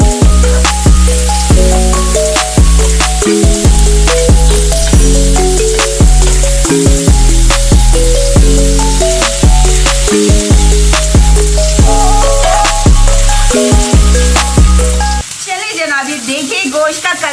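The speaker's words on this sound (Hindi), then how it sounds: "सारा मीट हमने अच्छे से इस तरह फ्राई कर लेना है" Meat sizzles loudly in oil in a pan, a dense, continuous frying hiss close up with occasional stirring knocks, then the sound cuts to something quieter near the end.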